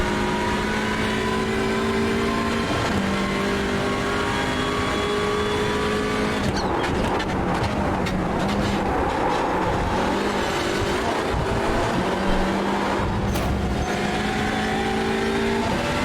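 Hyundai Elantra race car circling Circuit Gilles Villeneuve in Montreal, its engine droning loud and close throughout with steady pitch shifts as it changes gear and revs, and no voices over it.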